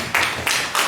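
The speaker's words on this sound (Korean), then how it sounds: "우리 하나님께 영광의 박수 올려드리겠습니다" A congregation at a high school church worship service claps as a few loud, sharp bursts of applause in under a second.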